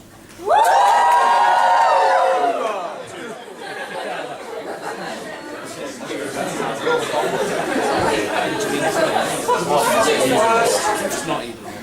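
A comedy show audience at a university event bursts into loud cheering and shouts, then settles into lively crowd chatter and renewed cheers, with voices mixed throughout.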